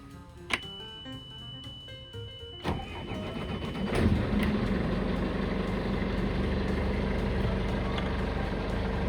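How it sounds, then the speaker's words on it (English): A boat engine cranks with a few sharp clicks and bursts, then catches and settles into a steady low rumbling idle that holds close and continuous to the end, with no talking. "Starting the engine."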